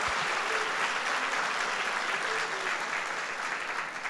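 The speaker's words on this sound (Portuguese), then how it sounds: "Dá um aplauso para você mesmo." Congregation applauding during a Sunday church service, a steady dense wash of many hands clapping that holds evenly for several seconds, with a faint voice briefly audible underneath.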